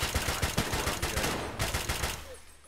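Rapid automatic gunfire in the Escape from Tarkov shooter video game, a loud close burst of many quick shots that runs almost the whole time before trailing off at the end.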